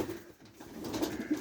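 Pigeons cooing close by during their morning bath, a few soft low coos rising over a steady splashing, bubbly background.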